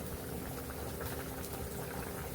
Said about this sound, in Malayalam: അപ്പോൾ ദാ മീൻകറിയൊക്കെ നല്ല തിളച്ച് കുറുകി വെന്ത് വന്നിട്ടുണ്ട് കേട്ടോ.